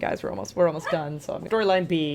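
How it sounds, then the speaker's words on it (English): A dog barks and yips in short bursts close by, heard under a person's steady talk. "apologize for the barking"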